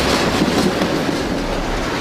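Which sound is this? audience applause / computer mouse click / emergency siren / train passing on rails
train passing on rails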